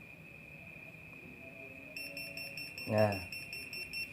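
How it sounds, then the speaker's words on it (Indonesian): A 3D 12-line laser level sounds its warning when not level: a steady high electronic tone runs throughout, joined partway by a pulsing beep pattern, with a brief spoken word over it near the end. "Kalau berbunyi seperti ini nggak rata."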